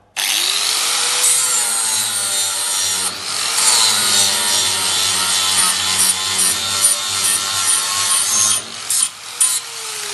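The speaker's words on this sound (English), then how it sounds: "Wheels are used flat to smooth off and polish the metal." An angle grinder's abrasive wheel, held flat, smooths and polishes metal with a loud, continuous whining grind that holds steady for about ten seconds and stutters briefly near the end.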